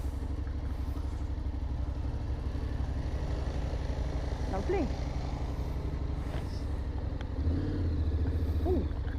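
A Honda Forza 750 scooter pulls away, its engine a steady low drone that swells slightly near the end, with someone speaking briefly over it.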